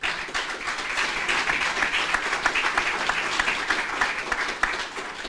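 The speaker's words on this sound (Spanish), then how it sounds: "La recibimos con un caluroso aplauso." A Peruvian audience gives a warm, sustained round of applause welcoming a congresswoman at an afternoon education and sports event, dense clapping holding steady and fairly close before cutting off abruptly at the end.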